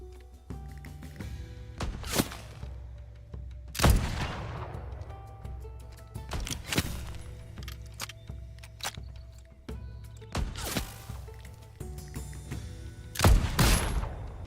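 Buffalo gun in the Western game Legend of California firing four heavy, booming single shots spaced a few seconds apart, each with a sharp crack and a lingering tail, over a quiet background.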